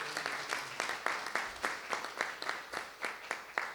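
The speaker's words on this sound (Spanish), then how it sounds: "Pedimos un aplauso" A small audience at a Mexican forum on peasant, fisher and aquaculture rights claps in a steady rhythmic beat, distinct evenly spaced hand claps moderately loud in a room.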